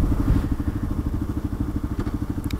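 A motorcycle rolls along in first gear, its engine thumping in a steady low pulsing rhythm close by, with light rattles and a faint click near the end.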